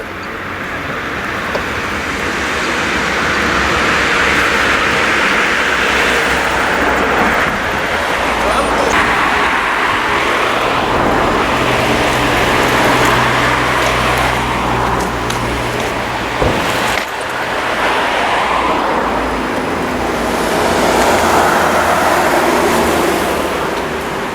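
A Renault Megane E-Tech electric car being driven: a steady, loud wash of road and wind noise runs throughout, with no engine note and no talking.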